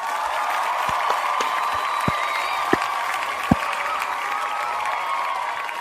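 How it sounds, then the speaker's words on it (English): An audience claps together in a steady, dense wash of applause that holds at an even level throughout, with a few sharper individual claps standing out and no talking. "Did we not clap for World Mind?"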